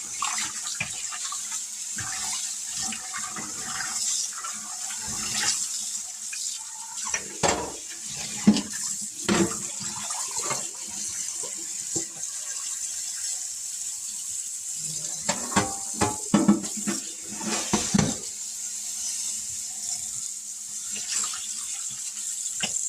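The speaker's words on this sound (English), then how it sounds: "I'm going to rinse it one more time, make sure I get all that vinegar smell off." Tap water runs into a kitchen sink while chicken wings are rinsed of vinegar, a steady stream broken by repeated splashes and sloshes as the meat is handled, close and clear with no talking.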